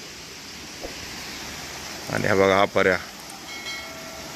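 A small village stream flows with a steady, soft broadband hiss of running water, while someone speaks briefly partway through.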